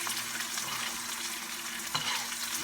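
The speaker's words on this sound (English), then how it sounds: "You turn your steak up on end with the fat side on the end of the pan, and you start ladling over the butter" Butter is spooned over a T-bone steak turned on its fat edge in a hot frying pan, giving a steady, close, dense sizzle with a small scrape near the end, and no voices.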